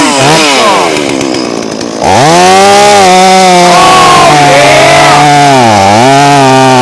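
A chainsaw roars loudly and close, dipping briefly before biting in again with a strained, wavering whine as it cuts through hard elm wood.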